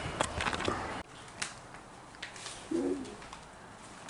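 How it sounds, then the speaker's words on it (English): A bird coos softly once at a heritage village, a brief low call set against steady outdoor ambience and scattered clicks. "There's like an actual bird."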